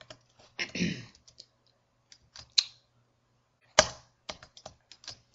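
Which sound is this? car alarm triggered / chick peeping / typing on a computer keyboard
typing on a computer keyboard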